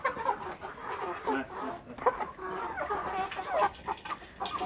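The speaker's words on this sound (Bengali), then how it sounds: "আজকে সকালে খাবার দিচ্ছে মুরগিগুলাকে" Backyard chickens clucking steadily at close range as a father and son scatter their morning feed, with the birds running in toward them; several clucks overlap, and a voice is also heard beneath the calls.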